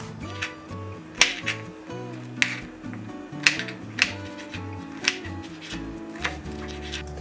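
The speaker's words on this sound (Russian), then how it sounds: "Перец нарезаю кубиками." Knife dicing pepper on a cutting board while filling is prepared for Turkish pide, giving a string of sharp, fairly close chopping taps at an uneven rhythm over quiet kitchen background with no talk.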